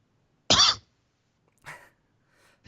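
Coughs as a chat request is answered on a livestream: one sharp, loud close cough, then a fainter second cough, with quiet gaps between.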